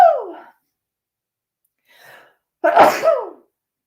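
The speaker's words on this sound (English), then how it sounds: "I have to sneeze" Two sneezes from a woman: a sharp first sneeze, a faint breath, then a louder second sneeze, each alone against silence.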